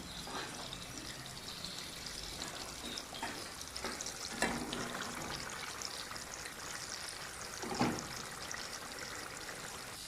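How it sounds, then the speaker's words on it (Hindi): Masala sizzles in ghee in a home kitchen pan for chicken kebab gravy, giving a faint, steady frying hiss with a few soft crackles and pops. "इसमें मैंने घी डाल दिया है। इसकी अच्छी तरह भुनाई करेंगे।"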